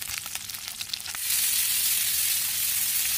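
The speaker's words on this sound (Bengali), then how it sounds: "দেখো এই মাছগুলোকে আমি হালকা ভেজে নেবো, বেশি লাল লাল করবো না," Fish frying lightly in oil, with a few soft clinks at first, then a dense, even sizzle rising and continuing at moderate loudness.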